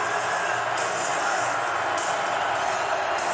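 Restless stadium crowd at a college football game on third and long, a loud continuous roar of many voices with scattered whoops rising and falling, filling the whole stretch without a break.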